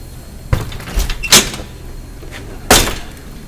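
The back door of N&F Performance, a custom exhaust shop, is pulled shut and locked, giving three sharp, close clunks and bangs spaced across a few seconds against a quiet room.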